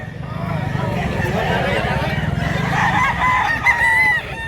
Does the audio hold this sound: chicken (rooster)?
yes